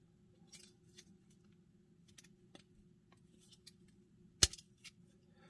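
Plastic wings on an Iron Factory Legends-scale Void Legion transformer figure being untabbed, heard as faint scattered clicks and scrapes in a quiet room, with one sharp, louder snap near the end.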